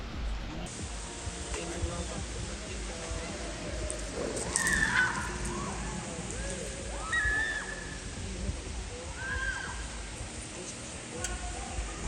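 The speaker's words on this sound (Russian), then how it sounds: "Это водопад." A waterfall roars steadily in the background near Kara-Bulak, Kyrgyzstan, a constant broad wash with faint splashing and a few distant bird-like chirps over it.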